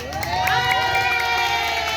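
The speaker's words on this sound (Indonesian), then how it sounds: "Nah, tepuk tangan buat Mbak Vicky ini." Festival crowd at a Betawi cultural village event clapping and cheering, a loud sustained roar of applause mixed with shouting voices, including children, and a tonal musical or vocal line running through it.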